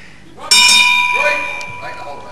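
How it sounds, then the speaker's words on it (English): Ringside bell at a televised professional wrestling bout rings out sharply to end round one, a bright metallic clang that decays with a long sustained tone over crowd murmur. "And right on the bell to end round one."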